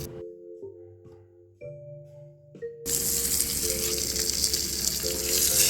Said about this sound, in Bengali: খুব ভালো করে ভেজে নেব এখানে দশ মিনিট ভেজে নেব দশ মিনিট ভেজে নিলেই মাছটা কুড়মুড়ে হয়ে যাবে